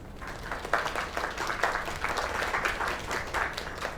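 Crowd applause in the video game Lake, a steady wash of many hands clapping throughout with no voices over it.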